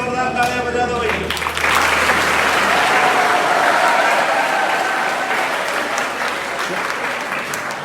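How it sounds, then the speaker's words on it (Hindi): Loud, sustained applause from an audience at a police anti-alcohol motivational talk in Rajasthan, a dense clatter of many hands that carries on steadily throughout. "सर आगे जोरदार तालियां बजा दो भाई।"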